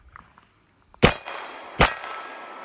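Two sharp, loud revolver shots fired double-action from a Colt Cobra or S&W 649, spaced under a second apart, each with a short ringing decay, after a few faint clicks.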